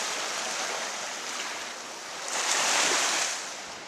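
Sea waves at Coral Bay, Cyprus, make a steady broad wash of surf that swells louder for a moment before easing back, with some wind rush over the microphone and no voices.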